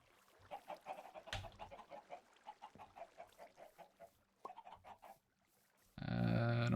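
Chickens cluck in Minecraft, a run of short, evenly spaced clucks close by for about five seconds, then a brief pause before a loud, dense burst of other game sound closes the clip.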